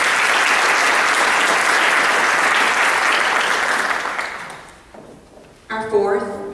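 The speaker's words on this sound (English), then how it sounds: "Let's give them a hand of applause" Sustained audience applause at a community health awards event, a loud, dense crowd of clapping that tapers off near the end before a voice comes in.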